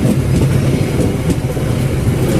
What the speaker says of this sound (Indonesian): Kereta api apa ya ini? Oh, Argo Parayangan